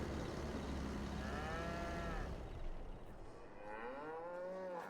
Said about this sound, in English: we have some happy cows